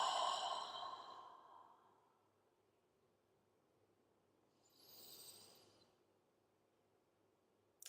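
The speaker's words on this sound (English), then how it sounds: "So deepening the breath, slowing it down," Slow, deep breathing during a calming yin yoga relaxation, heard as a long soft exhale at the start and a second gentle breath a few seconds later, close and quiet with no talking.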